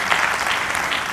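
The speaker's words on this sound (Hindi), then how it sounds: "मैं एक बार ये चाहूंगा कि राजीव भैया के लिए एक बार आप तालियां बजाइएगा, बहुत मन से।" A live audience breaks into steady, full applause at a Hindi poetry gathering, the clapping dense and continuous for a short burst.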